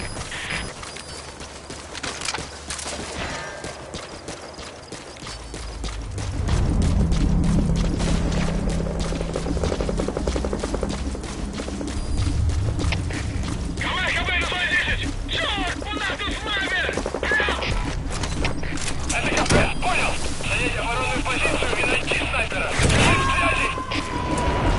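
Gunfire in the video game Metal Gear Solid 5, with dense clicks and bursts of shots over a continuous loud game backdrop and rumble, heard alone without voices.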